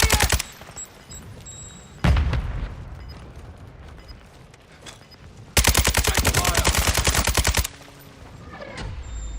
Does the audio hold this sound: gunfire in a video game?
yes